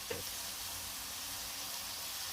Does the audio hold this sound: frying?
yes